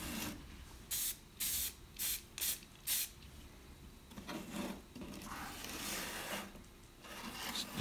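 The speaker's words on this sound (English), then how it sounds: "just starting to spray some of the parts." Short bursts of black aerosol spray paint hiss five times in a quick rhythm onto model car parts, followed by longer, softer spraying passes, close by with no talking.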